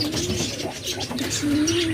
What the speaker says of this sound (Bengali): ফেন্সি পায়রা তাই তো